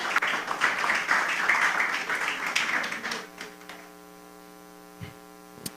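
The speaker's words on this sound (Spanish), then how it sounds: "Puede sentarse con un aplauso," Church congregation applauding, a dense wash of clapping that fills the room for about three seconds and then stops, leaving a steady electrical hum.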